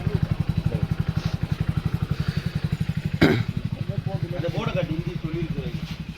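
A motorcycle engine idles nearby with a steady, rapid thumping pulse, and a sharp clatter cuts in partway through as a bike is parked at a market. Voices speak over it.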